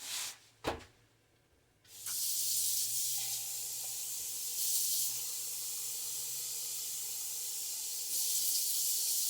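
Water pours into rice in a rice cooker pot with a steady close hiss that runs for several seconds after a couple of brief knocks, continuing unbroken to the end.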